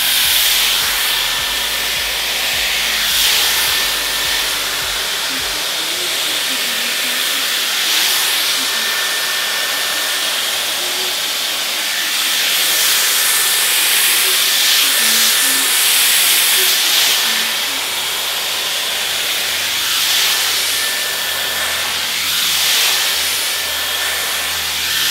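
Dyson Airwrap hair styler on its highest heat and high speed, a loud close steady airflow hiss with a thin whine, swelling and easing as it moves through curly hair.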